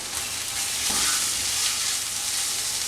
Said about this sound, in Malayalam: ഈ മസാലയുടെ പച്ചമണം മാറുന്നത് വരെ ഇതൊന്ന് മൂപ്പിച്ചെടുക്കാം